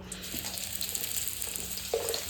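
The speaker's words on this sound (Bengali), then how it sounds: "তেলটা গরম হতেই আমি দিয়ে দিচ্ছি লাউয়ের চোকলাগুলোকে তেলের মধ্যে" Bottle gourd peels frying in hot mustard oil in a pan, giving a steady soft sizzle with small crackles and a faint scrape toward the end.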